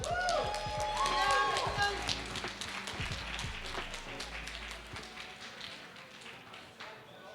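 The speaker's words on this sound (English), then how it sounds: "Another round of applause for our top players, guys." Audience at a trading card game championship world finals applauding its top players, a crowd of hands clapping with cheering voices mixed in, steady and then slowly thinning out.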